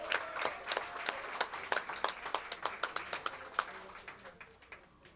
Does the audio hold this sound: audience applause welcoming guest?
yes